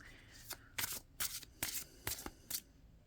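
Cards riffled and shuffled in several quick bursts, crisp papery flutters close to the listener with short pauses between.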